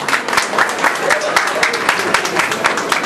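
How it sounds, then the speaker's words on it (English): An audience applauds steadily, many hands clapping in a dense, even patter that stays loud throughout. "please give a round of applause."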